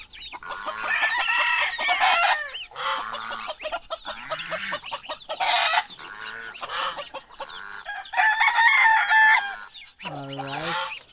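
Chicken clucking and crowing from a rooster and fowl kept at home without a coop yet, loud bursts of calls repeating across the whole stretch.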